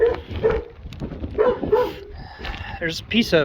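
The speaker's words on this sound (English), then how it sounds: "Sorry for the dogs back here." Dogs bark in the background behind a person talking on a roof with a badly installed 3-tab shingle job. The barks come intermittently and fairly faint, mixed with speech.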